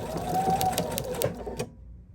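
A sewing machine runs briefly through So Lush plush fabric, giving a quick, close whirring burst of stitching that stops abruptly near the end.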